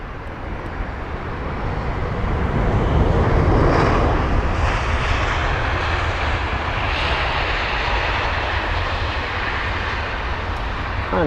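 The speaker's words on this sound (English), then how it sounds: "And this is the British Airways A320." British Airways Airbus A320 at London Heathrow, a continuous loud engine roar that swells slightly and then holds steady, heard alone.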